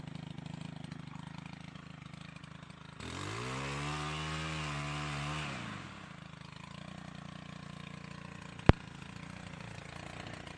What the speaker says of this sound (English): chainsaw, it's a great bit of kit.